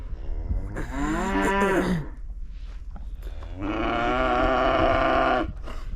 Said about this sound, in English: all of the cows and calf are moved here